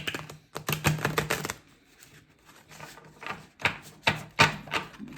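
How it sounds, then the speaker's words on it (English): A large tarot deck being shuffled by hand, with bursts of riffling, flapping card noise in uneven clusters, fairly close and quiet, separated by brief pauses, with no voices. "it is a rather large deck, so I do struggle somewhat to shuffle"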